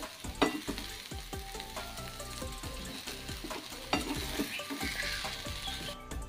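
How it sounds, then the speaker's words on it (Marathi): Crumbled chapati is stirred lightly in a hot pan, with a steady sizzle and repeated scraping strokes of a spoon running through the whole stretch, close and fairly loud. "आपण थोडंसं हलक्या हाताने परतून घेऊया."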